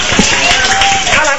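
Fans of a singer clap for her on a Thai TV community show, a dense burst of applause mixed with talk and crowd noise, loud and close throughout.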